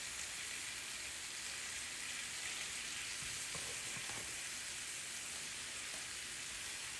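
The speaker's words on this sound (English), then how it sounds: "saute this until the water cooks out of it" Squash spread over onions in a pan sautés with a steady, soft sizzle and faint crackle, continuous and quiet throughout.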